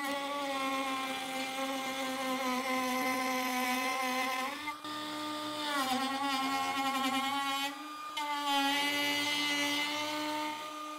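A TECEPO brushless 21V cordless router at speed setting 5, fitted with a 25.5 mm bit, cuts into a piece of wood with a defect. It gives a loud, steady motor whine that runs throughout, dipping briefly a couple of times as it bites.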